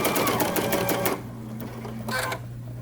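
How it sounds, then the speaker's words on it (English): A domestic sewing machine stitches a quilt along a template with a fast, steady run of needle strokes, then stops and gives a second short burst of stitching after a quieter pause. "I have not found it to be a problem stitching one way or another on my domestic machine"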